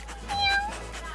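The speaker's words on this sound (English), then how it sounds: "Oh, kitty, not on the table." A house cat gives a single clear meow near the microphone, short and rising then falling, over a low room hum.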